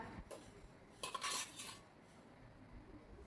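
A spoon scrapes and stirs cooked rice pongal in a pan, a short clattering burst of metal on the pan with quiet moments before and after, and no one talking.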